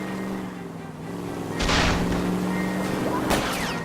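Gunfire rings out during a car chase in the video game L.A. Noire, two sharp loud shots over steady car engine noise and a low rumble, with a voice in the background.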